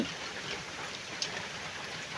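Rain pours down over a rural farm plot in steady, dense hiss, with a single brief sharp tap partway through and no talking.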